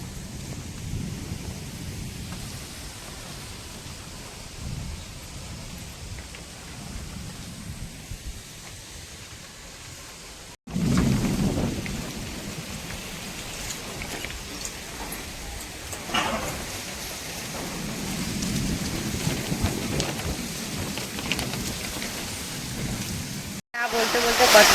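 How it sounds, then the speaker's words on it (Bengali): Heavy rain pours down during a night thunderstorm with strong wind, a dense roaring wash that swells louder partway through, with low rumbles of thunder and gusts churning beneath it. "না বলতে বলতে কত জোরে বৃষ্টি এসে গেছে দেখি"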